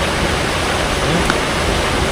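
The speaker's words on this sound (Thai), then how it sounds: "เสียงฝนเสียงน้ำตก" Steady, dense rush of rain and a waterfall in a forest, loud and continuous like broadband noise with no distinct events, filling the whole stretch.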